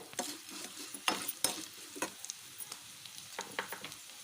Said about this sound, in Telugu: ఇవి ఫ్రై అయిపోయాయండి ఇప్పుడు రెండు లవంగాలు